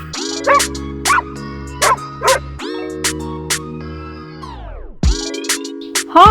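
A dog barks and yips repeatedly in short bursts, close and loud, with a brief whimper-like drawn note partway through.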